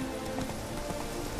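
Steady rain falls across the open countryside in The Witcher 3: Wild Hunt, a dense even hiss of drops on the ground with faint hoof-like taps mixed in, no voices.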